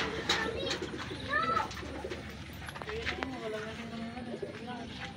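Soft coos of racing pigeons being loaded for a training release sound faintly nearby amid rustling and scuffing, with a voice murmuring in the background.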